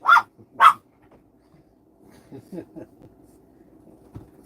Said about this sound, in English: Did someone have a dog?